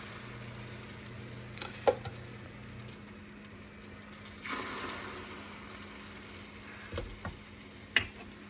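Sausage frying in a pan while breakfast meals are prepared, a steady low sizzle broken by a few sharp clinks and scrapes of utensils, with no talking.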